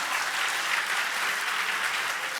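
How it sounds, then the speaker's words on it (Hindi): Ceremony audience breaks into loud, dense applause, a continuous close roar of many hands clapping that cuts off sharply at the end. "एक बार जोरदार तालियां हो जाएं।"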